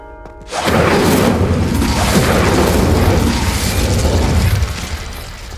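An Incendio fire spell cast in Hogwarts Legacy erupts as a sudden loud whooshing blast that holds as a thick roar for about four seconds before dropping away.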